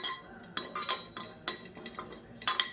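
A metal spoon scrapes and clinks against a pan while rice and curry leaves roast for arachuvitta sambar, giving a handful of sharp irregular strokes, close and clear.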